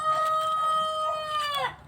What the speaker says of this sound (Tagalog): Ito yung aking white leghorn na manok.